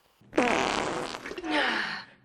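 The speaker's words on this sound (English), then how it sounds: "Do women fart?" A long, loud, squeaky cartoon fart from an animated history piece, stretching out with a rising wobble and then a second trailing burst, heard up close with no talk.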